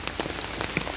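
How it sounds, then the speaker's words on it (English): Rain falling steadily on an umbrella during a rainy-day offroad outing in San Pablo, a dense close patter of drops with small taps standing out, no voices. "And right now the rain now falling down and I have my umbrella with me"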